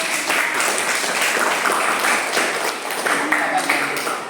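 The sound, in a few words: audience applause for group 2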